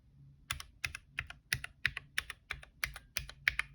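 Keystrokes on a mechanical keyboard fitted with Gateron Snow White switches, a steady run of about a dozen crisp, evenly paced clacks, close and clear, with no voices.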